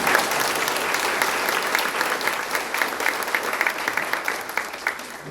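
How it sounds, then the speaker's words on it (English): An audience at a university scholarship brunch claps steadily and loudly, the dense applause continuing throughout and thinning into scattered individual claps near the end. "And I think they deserve a round of applause."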